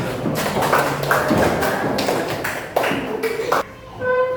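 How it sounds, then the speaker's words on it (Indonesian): Students clapping their hands in a classroom, with several bursts of sharp, close claps in uneven groups and a voice speaking between them. "Silakan duduk kembali, tepuk tangan dulu."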